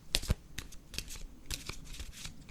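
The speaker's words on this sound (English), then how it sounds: "Pick out 4 cards." Tarot cards from a Black Cat Tarot deck being handled and picked out, with soft close-up rustles and light snapping card flicks, quiet and unhurried.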